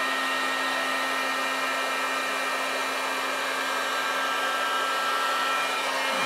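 A heat gun blows a steady, loud, unbroken whine and rush of air while shrinking 5/8 inch shrink tubing over a 1/4 inch threaded rod for a homemade camp stove hot dog cooker, with no talking.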